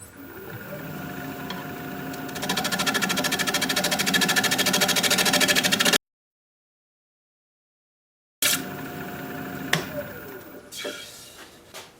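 A wood lathe spins a resawn cedar bowl blank while the surface is flattened, giving a steady, loud mechanical whir with a tonal hum, then a gap of silence and a renewed whir with scraping bursts near the end.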